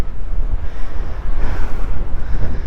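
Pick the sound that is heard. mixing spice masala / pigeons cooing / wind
wind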